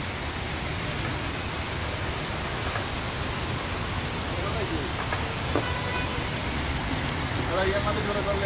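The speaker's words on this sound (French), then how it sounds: "Il pleut en ce net moment." Rain falling in Lyon, France, a steady broadband hiss across the whole stretch with faint clicks and background noise mixed in, and no clear foreground voice.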